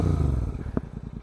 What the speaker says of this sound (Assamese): ষ্টাৰ্টিঙত যেতিয়া বাইকখন ষ্টাৰ্ট কৰোঁ তাৰপিছত আৱাজটো শুনিয়ে মানে দিলটো মানে খুচ হৈ যায়